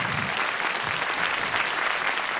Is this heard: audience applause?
yes